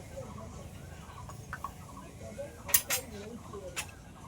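Chicken being mixed with turmeric, spices and mustard oil in a pot: scattered metal spoon scrapes and clinks against the pot, with soft speech underneath.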